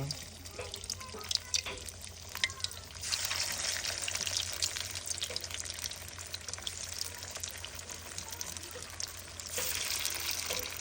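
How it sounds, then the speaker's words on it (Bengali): Mustard flower fritters sizzle in hot oil in a wok, a steady frying crackle that swells louder as more pieces go in. "তেলটা হচ্ছে গরম হয়ে গেছে। আর এখন এক পিস করে বড়া দিয়ে দিব।"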